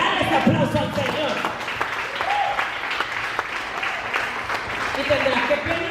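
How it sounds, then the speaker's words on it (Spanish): A church congregation claps and applauds steadily for several seconds during a sermon, a broad wash of clapping with voices calling out over it. "Dale ese aplauso al Señor."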